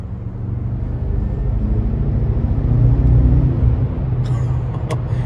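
A deep, steady engine rumble, loud and close, with a low droning idle that swells slightly midway before a brief higher rattle near the end.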